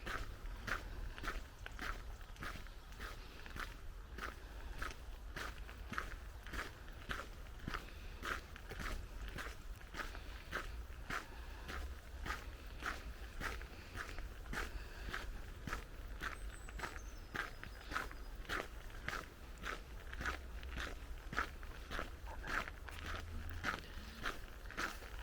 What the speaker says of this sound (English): This little dusting of snow is so crunchy,